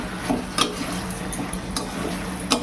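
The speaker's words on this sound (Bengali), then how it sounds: "চিকেন দিয়ে ভালো করে এখন মশলার সাথে কষাতে হবে" Chicken being sautéed with spices in a pan for a chicken dak bungalow curry: a steady sizzle with several scraping, clacking stirs of a spatula against the pan, close and moderately loud, with no talk.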